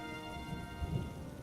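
Rain falling in a Hindi cartoon, a steady soft patter with a low rumble of thunder swelling midway, heard on its own without talk.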